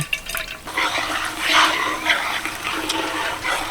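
Grated mango for a spicy pickle is squeezed by hand to press out its water, making a loud, close, continuous wet squelching and trickling with no speech.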